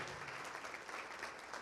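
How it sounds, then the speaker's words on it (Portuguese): Brief applause from a church audience at a Portuguese-language worship broadcast, a short even patter of clapping, faint and steady throughout. "Vamos aplaudir mais ao nome de Jesus."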